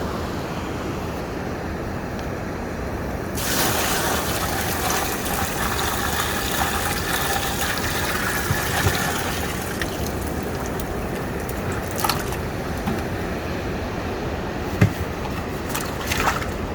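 Water poured into beach sand to wet a sandcastle base gives a steady, close, rushing wash that swells louder partway through and carries on without a break.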